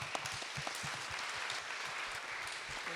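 Applause from a panel discussion audience after a speaker's remarks: dense, continuous clapping from a crowd, steady for the full three seconds.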